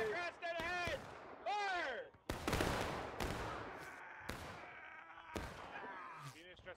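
Musket volleys in the Civil War game War of Rights at Pry House crash out as several sharp, loud, near and far gunshot bursts, after commands shouted over the radio and with voices in between.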